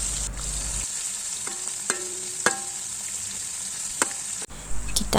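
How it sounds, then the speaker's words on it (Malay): Fermented fish fries in hot oil with shallots and red chili, giving a steady loud sizzle broken by a few sharp clicks and scrapes of stirring. "kita goreng cabai dengan bawang tadi tu sampai dia perang"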